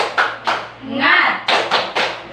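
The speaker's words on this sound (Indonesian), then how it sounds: "Tepuk semangat." A fourth-grade class stands and does a rhythmic spirit clap, sharp group claps in a patterned sequence with children's voices chanting along.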